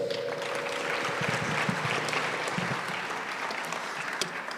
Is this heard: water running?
no